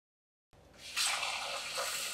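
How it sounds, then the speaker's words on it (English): Sushi rice is washed gently in cold water: after a moment of silence, soft swishing and dripping sounds come in and continue, close and fairly quiet. "So using cold water, we're just going to wash the rice gently"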